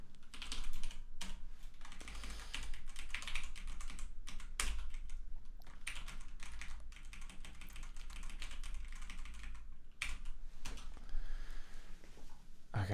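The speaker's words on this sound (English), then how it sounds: "keyboard's working as it should now" Someone types rapidly on a computer keyboard while coding a DOS game engine, a dense, steady stream of close clattering keystrokes with a few brief pauses, over a low background hum.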